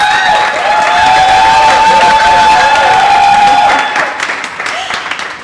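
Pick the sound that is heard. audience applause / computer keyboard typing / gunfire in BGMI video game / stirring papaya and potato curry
audience applause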